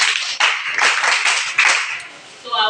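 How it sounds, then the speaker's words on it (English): Listeners at an economics talk clap for themselves in a loud, close burst of hand claps lasting under three seconds, with uneven surges in the clapping. "Clap for yourself."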